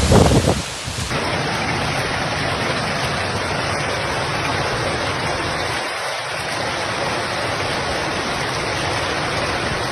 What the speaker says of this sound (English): heavy rain and storms began to develop